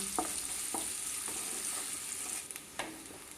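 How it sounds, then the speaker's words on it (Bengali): A large chopped onion frying in a pan for egg biryani, giving a soft, steady sizzle with a few sharp clinks and scrapes of stirring, close but quiet, and no talking. "এবার পেঁয়াজটাকে একটু ভেজে নিতে হবে"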